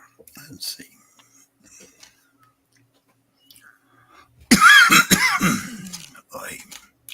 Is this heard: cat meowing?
no